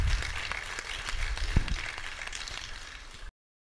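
An audience applauds composer Nicolò La Perna after his lullaby, a dense, steady wash of clapping from a crowd that holds for about three seconds and then cuts off abruptly.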